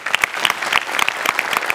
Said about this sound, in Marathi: सो तुझ्याकरता एकदा स्पेशल टाळी